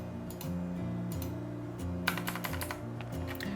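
Keyboard typing and mouse clicks while drafting lines in CAD software, a steady run of light, close clicks and key taps over a low hum of background music.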